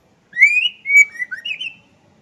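A green leafbird (cucak hijau) gives a short run of clear, high whistled chirps, rising and sliding notes close by in an otherwise quiet setting.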